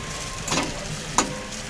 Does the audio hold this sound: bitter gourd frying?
yes